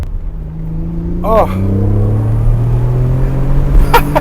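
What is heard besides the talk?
Nissan 300ZX turbo car accelerating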